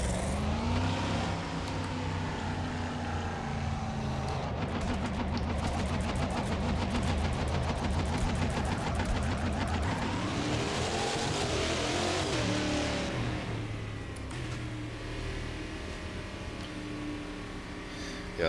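Race car engine of a P1 prototype at Donington in Automobilista 2, a loud continuous roar that climbs and falls through gear changes, rising to a dense high-revving peak midway before easing back down.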